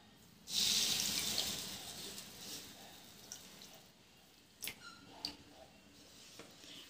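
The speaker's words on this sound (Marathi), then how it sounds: "बुडेल इतपतच आपल्याला पाणी घालायचं आहे।" Water poured into a pan of sugar to make syrup for balushahi, heard as a short, close splashing pour that fades, followed by a few quiet drips and small clinks in a quiet kitchen with no talking.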